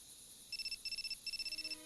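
A mobile phone in the Shadow of Memories video game plays a beeping tune, three runs of rapid pulsed electronic tones, quiet against faint background noise.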